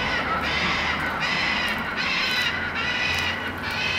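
A parrot squawks loudly and repeatedly at close range in harsh, raspy bursts that keep going throughout, with no talking.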